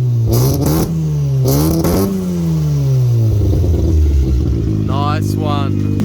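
A Mazda FC RX7 rotary engine that had sat for 12 years is blipped in two sharp, loud revs before settling into a rough, lumpy idle nearby, with a short bit of talk near the end.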